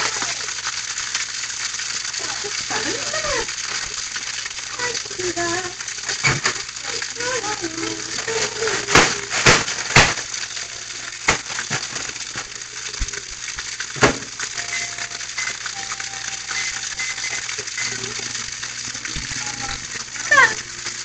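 Steady broadband sizzle of chicken tenders frying in a pan, with occasional clinks and scrapes of utensils over the constant crackle.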